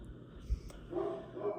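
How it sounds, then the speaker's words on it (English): A dog barks in the background of a quiet indoor room, producing a couple of muffled, distant barks near the end. "So there's been a dog barking this whole time."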